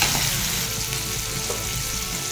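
Tomatoes are sautéed in a pan for a home-cooked lunch, giving a steady, close sizzle with soft stirring throughout.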